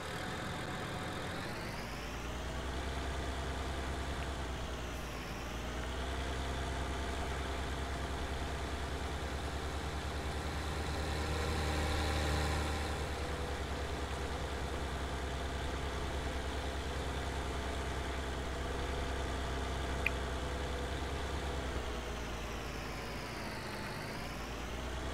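A New Holland farm tractor engine in Farming Simulator 19 runs steadily at a low idle, a continuous mechanical hum with slow rises and falls in pitch. It carries on alone for about twenty-five seconds.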